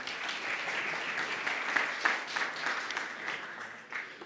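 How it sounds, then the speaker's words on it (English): Applause at a software workshop about test-driven development, broadband clapping of moderate loudness that runs steadily for a few seconds, with a few sharper claps standing out near the middle. "Applause for Borja, please."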